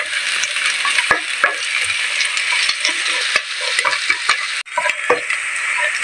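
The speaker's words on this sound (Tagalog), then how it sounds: "Halu-haluin ko lang po hanggang kumula ang bawang at magluto ang sibuyas." Garlic and onion frying in oil in a pan, a bright continuous sizzle with repeated sharp knocks and scrapes of a utensil stirring, close and fairly loud, without speech.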